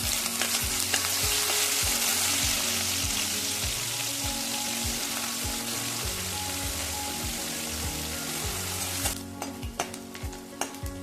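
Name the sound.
paneer being pan-roasted for sabudana khichdi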